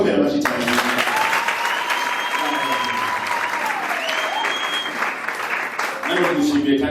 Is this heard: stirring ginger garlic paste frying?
no